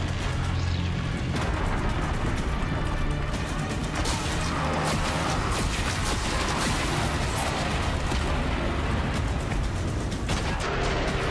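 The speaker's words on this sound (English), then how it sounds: "Walk through all the explosions." Explosions in Horizon Zero Dawn: The Frozen Wilds, a continuous barrage of loud, overlapping booms and crashes with mechanical clatter that fills the whole stretch without pause.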